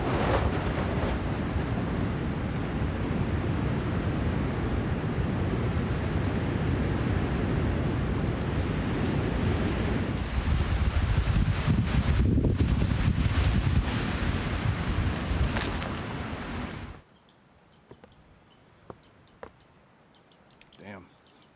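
Storm wind and rain batter a tarp shelter over a boat, a dense, continuous rushing roar that suddenly cuts off near the end, leaving only faint, scattered patters.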